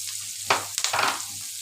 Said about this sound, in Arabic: اهو احط الثوم، هو بس يا دوبك هيتشوح كده يدبل يعني.